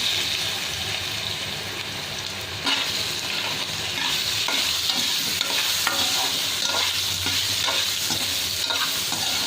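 Potatoes and small brinjal fry in a pan after cumin, a dense loud sizzle that jumps louder partway through, with constant stirring scrapes and clatters close by and no talk.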